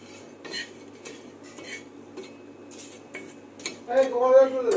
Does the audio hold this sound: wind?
no